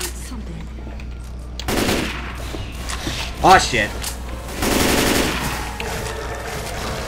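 Automatic gunfire from a Teletubby-themed war video game sounds in broad bursts, with a sharp burst midway and a longer stretch of firing near the end, under a man's loud swearing and talk.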